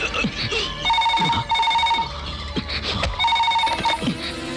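A telephone rings in a Telugu movie scene: loud, repeated electronic ring bursts with short gaps between them, over film background sounds and some voices.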